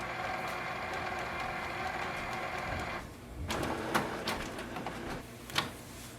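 A Canon Pixma G6000 inkjet printer runs its ink cleaning cycle: a steady mechanical whir with a tonal hum, then a shift to clicks, clunks and rattling knocks of the print mechanism, close and moderately loud, with no talk.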